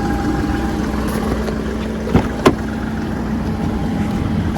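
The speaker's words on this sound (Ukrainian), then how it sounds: "Це паливний насос під заміну. Його чути, як він гуде." A steady low mechanical hum from a worn Skoda Fabia Combi fuel pump drones throughout, with a couple of brief clicks partway through; no voices.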